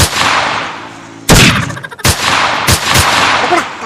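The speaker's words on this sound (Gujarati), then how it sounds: "ફોડો ફોડો ફોડો બંદૂકો" Gunfire in a Gujarati comedy sketch: about four loud, sharp bangs at irregular intervals, close by, each with a short echoing tail, and no talking.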